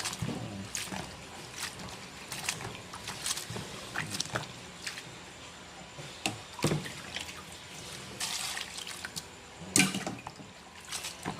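Vegetables rinsed in a basin of water at home, with soft sloshing, dripping and splashing, quiet and close, plus occasional small knocks throughout.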